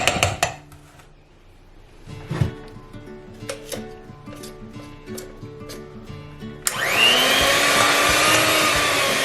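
Brownie batter is worked with an electric mixer: a few sharp clinks and rattles of a bowl and utensils come first, then the mixer motor kicks in loudly and whirs steadily to the end.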